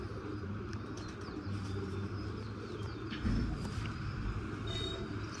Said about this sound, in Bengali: অনেক ছটফটে পায়রা।